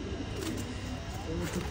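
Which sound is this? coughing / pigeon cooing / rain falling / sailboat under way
pigeon cooing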